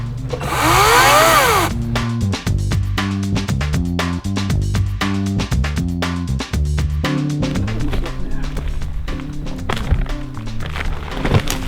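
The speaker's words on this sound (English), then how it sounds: "I've got a bit of a stump here that I want to chop off." An EGO 56V 450mm battery chainsaw cuts into a tree stump outdoors, a loud whine rising briefly at the start, then a long run of rough, juddering chopping and thudding as the chain bites through the wood.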